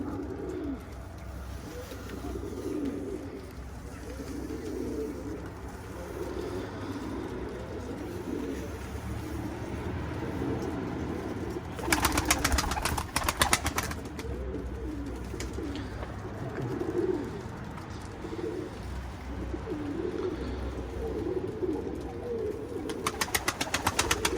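Pigeons cooing outdoors, repeated low throaty coos in rolling bursts over a steady background rumble, with two stretches of louder flapping or rustling noise.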